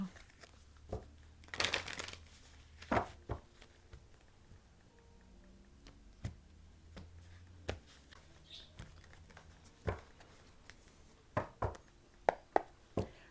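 Tarot cards being shuffled by hand in a quiet room, giving soft scattered riffles and taps with a few sharper bursts of card-on-card flutter, close and fairly faint.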